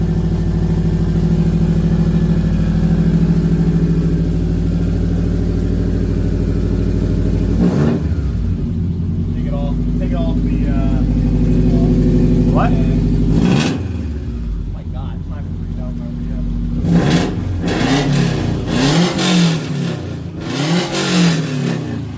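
A loud car with a straight-pipe exhaust drones at idle, then barks through several sharp revs with gaps between them; people speak briefly between the bursts.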